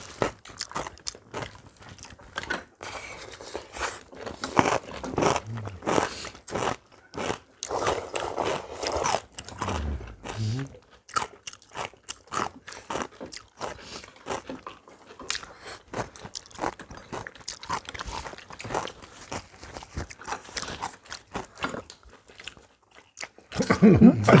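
Someone eats braised Korean pork back ribs up close, with wet chewing, crunchy bites and scraping sounds in an irregular, steady rhythm that continues throughout.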